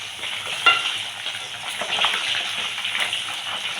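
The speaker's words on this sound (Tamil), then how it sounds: "ரொம்ப சிம்பிளான பொருளை வச்சு நம்ம மீன் வறுத்துக்கலாங்க" Fish fries in a pan with a steady close-up hiss and sizzle and a brief sharp spatter near the start.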